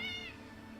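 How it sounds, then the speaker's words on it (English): A cat gives a single close, drawn-out meow that tapers off within about a second, heard clearly over faint background noise. "We keep getting Long Cat invading on our turf right here"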